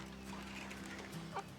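Soft clucking from Sasso C431 chickens close by, with a brief louder cluck near the end over a low steady hum.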